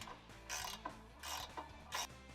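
A ratchet tightens 14mm bolts on a Toyota 4Runner crash bar, giving three quick clicking strokes, close and fairly faint in a quiet space.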